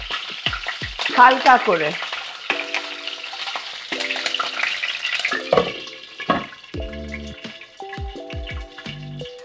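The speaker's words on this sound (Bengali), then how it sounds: "ডিম সেদ্ধ, একদম হার্ড বয়েলড এগস 3টে আছে, একটু হালকা করে ফ্রাই করে নেব" Three hard-boiled eggs lightly frying in a pan, a steady sizzle with stirring clatter and spoon taps, close up, while someone speaks briefly.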